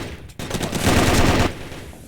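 Gunfire in a competitive multiplayer video game match, a short automatic burst of rapid shots lasting about a second after a single sharp crack, fairly close.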